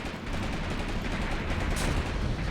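Machine gun fire in the WWII tactics game Graviteam Tactics, a continuous rattling stream of rapid shots heard at a distance, steady and somewhat muffled, with no voices over it.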